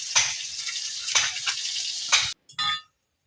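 Big pond-raised silver carp pieces fry in hot oil with a loud, steady sizzle, broken by a few stirring clinks, before the hiss drops away and a short final burst of frying trails off.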